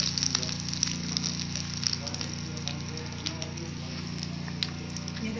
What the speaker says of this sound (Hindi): इसी तरह से सारे के सारे जो बाकी नरगसी कोफ्ते हैं उन्हें भी फ्राई कर लेंगे।